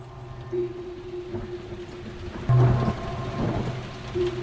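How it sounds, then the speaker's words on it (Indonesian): Steady rain falls as a sound effect in an Indonesian radio horror drama. Thunder rumbles through it, and a louder crack breaks midway. No voices are heard. "Ku dengar saat itu hujan tiba-tiba turun dan membuat udara menjadi sangat dingin"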